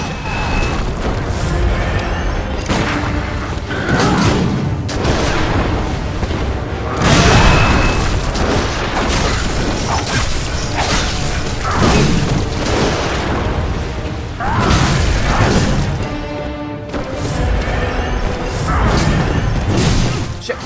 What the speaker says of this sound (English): there's a special shotgun that he can shoot in two-handed mode